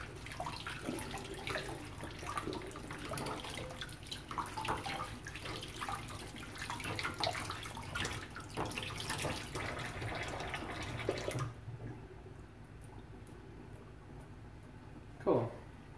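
Tap water running steadily into a kitchen sink while a sweet potato is washed under it, a close continuous splashing rush that stops abruptly, followed by quiet and one brief knock.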